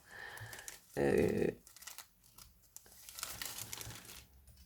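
Sheets of 3 mm pearlescent quilling paper crinkle and rustle as they are handled, with a louder crumpling burst followed by softer intermittent rustles.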